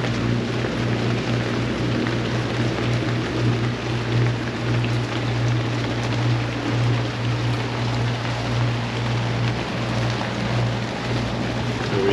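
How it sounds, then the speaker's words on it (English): Rain falls on a sailboat motoring on the river near the Woodrow Wilson Bridge, a steady hiss over a constant low engine drone and hum that continues evenly throughout without talk. "Okay, I think the rain caught up with us."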